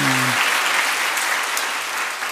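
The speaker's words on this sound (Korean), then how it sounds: "사모님께도 박수 한번 주세요." A church congregation claps for the pastor's wife, steady, close applause running throughout after a brief low voice at the very start.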